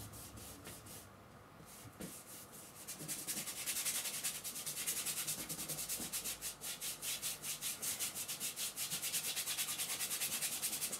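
Brush scrubbing oil paint onto a hand-held canvas for a Coca-Cola still life, a steady close rhythmic rasping that grows louder and more continuous after the first few seconds, with no talking.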